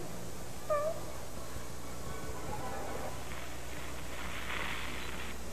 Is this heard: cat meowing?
yes